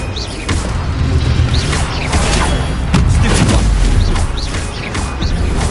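Spell casting effects from Hogwarts Legacy combat: a dense, continuous run of booming blasts, crackling bursts and whooshing magic strikes. The effects are loud and close, with repeated impacts over a rumbling low layer.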